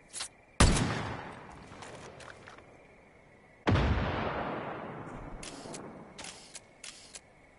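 Gunfire from the video game Far Cry 5: two loud, sharp shots with long echoing tails, followed by several shorter, quieter cracks.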